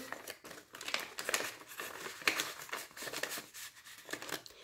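Paper banknotes handled and tucked into a budget envelope, giving close, soft, continuous crinkling and rustling in quick irregular bursts, with no voices.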